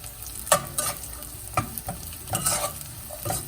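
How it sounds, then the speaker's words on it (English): Cashews are sautéed with browned onions in a pan, heard as a soft steady sizzle broken by scraping stirring strokes, close and moderately quiet with no talking. "we're adding cashews at this moment, sauteing them for half a minute"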